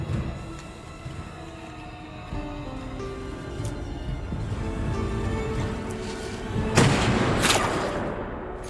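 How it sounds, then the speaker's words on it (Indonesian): A single sharp gunshot cracks out near the end, following a stretch of low rumbling ambience. "Daigo pun melepaskan tembakan yang mengenai tubuh Shirogane"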